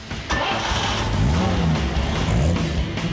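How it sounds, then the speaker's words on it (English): A 1951 Chevrolet convertible engine cranks and catches, then settles into a loud, close, rumbling idle with a slight rev, no voices present. "This is Steve McQueen's '51 Chevy."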